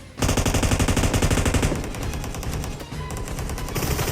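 Rapid automatic gunfire in the mobile shooter PUBG Mobile, with loud, dense bursts of shots rattling almost continuously and easing slightly near the end.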